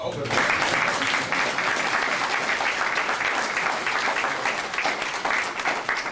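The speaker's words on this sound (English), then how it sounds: "You can clap for him." An awards ceremony audience breaks into loud, sustained applause for an honored fire department captain, with dense clapping from many hands right from the start.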